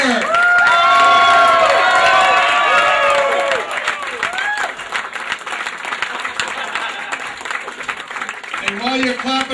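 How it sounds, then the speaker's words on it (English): Crowd at a mayoral victory celebration claps and cheers loudly, with whoops and shouts rising over sustained applause that thins partway through, then a few voices call out again near the end. "And while you're clapping"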